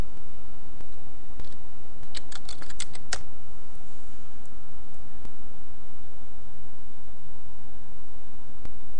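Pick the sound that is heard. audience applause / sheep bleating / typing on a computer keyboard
typing on a computer keyboard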